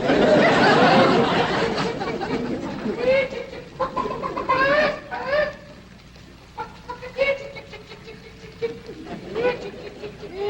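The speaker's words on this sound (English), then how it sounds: "Jethro, go on out there and catch us a chicken." Chickens cluck in short broken bursts around a farm place in the colorized Beverly Hillbillies, with people talking over and between the birds from start to finish.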